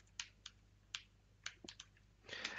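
Typing on a computer keyboard while entering a command, heard as a short run of crisp, close key taps in an irregular rhythm that ends in a quicker burst of keystrokes.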